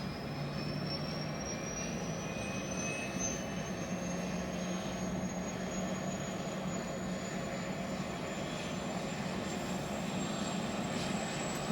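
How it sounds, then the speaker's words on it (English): A C-17 military transport aircraft's jet engines spin up at an airport, a steady loud roar with a high whine that climbs slowly throughout, heard without talk. "The engine's starting up."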